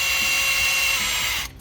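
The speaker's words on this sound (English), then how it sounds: "So just give that a run on the drill," A power drill whirs steadily at high speed for a moment, spinning an oil primer to prime the engine of a KE10 Toyota Corolla, then stops abruptly near the end.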